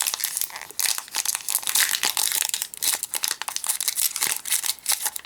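A Pokémon Evolution Céleste booster pack's foil wrapper crinkles and tears up close, a continuous busy stream of crackling plastic handling with no talking.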